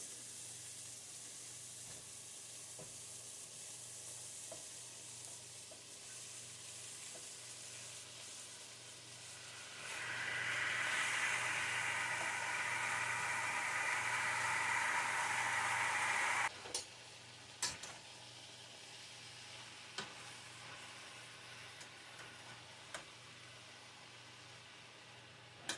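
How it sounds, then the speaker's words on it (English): Bell peppers and other ingredients in a skillet give a quiet low hiss at first. After the pan is covered, a loud bright sizzle and steam hiss holds for several seconds. It ends abruptly, followed by a few sharp clicks and taps. "I'm going to cover my pan so that it'll steam a little bit."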